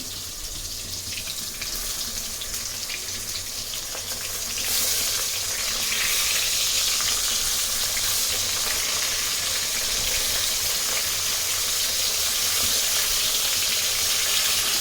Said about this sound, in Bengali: পুঁটি মাছ হচ্ছে প্রতি মাছ ভাইজা দিই